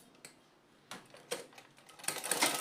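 A sewing machine stitches down an overlapped neckline on fabric: a few sharp clicks, then a dense, close, steady stitching burst at the end, with no talking.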